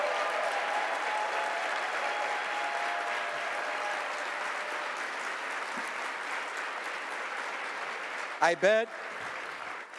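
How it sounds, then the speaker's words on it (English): Audience applauds event workers at a leadership luncheon, a sustained broad wash of clapping filling the hall with speech mixed in, and a brief loud burst of voices near the end. "can we give all the workers a great round of applause?"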